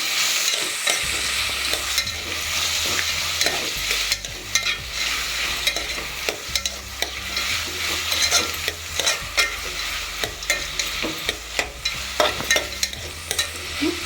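Vermicelli is stir-fried in a pan for vermicelli upma, with a steady sizzle under constant rhythmic scraping and tapping of a spoon against the pan, close and fairly loud.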